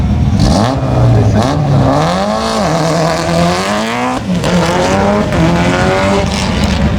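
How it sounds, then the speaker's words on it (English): A quick race car at the Leyburn sprint event accelerates hard and close, its loud engine note climbing steeply through several gear changes with a rasping, buzzy edge. "this is a really quick race car too"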